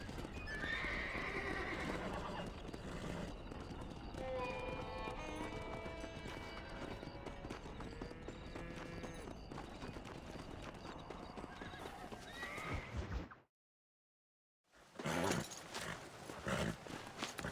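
Horses whinny and neigh over steady galloping hooves in the video game Red Dead Redemption on PS5, busy and loud, with a brief drop to silence before the clatter resumes.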